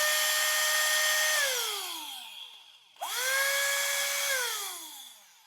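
A 12 V cordless drill fitted with a 21 V lithium battery whines loudly in two runs, each revving up to a steady high pitch and then winding down as it slows to a stop.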